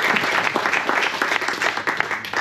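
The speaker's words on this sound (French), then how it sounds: "Vous pouvez vous applaudir." An audience applauds at a French poetry reading, a dense, steady wash of many hands clapping together at fairly close range for the whole stretch, with no talk over it.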